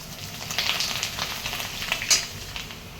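Small colourful bhungla pipe snacks fry in hot oil with a continuous bubbling sizzle and occasional stirring scrapes, close and moderately loud, with no talking.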